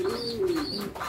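Pigeons coo softly nearby while feeding, a low rolling call repeated a few times over a brief moment.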